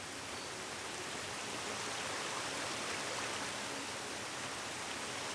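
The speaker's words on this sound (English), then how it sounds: "But we got a sweet waterfall." A waterfall in the video game Senua's Saga: Hellblade II gives a steady, dense rushing hiss, constant and fairly loud throughout with no speech.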